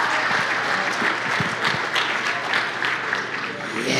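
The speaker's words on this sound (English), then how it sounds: "So start clapping right now." Comedy club audience at a crowd-work stand-up show clapping loudly and continuously, a thick field of hands with scattered sharp claps and faint whoops throughout.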